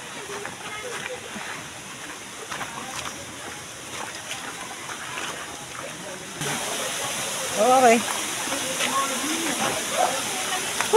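A stream flows with a soft, continuous rushing and sloshing that gets slightly louder toward the end. People speak briefly over the water.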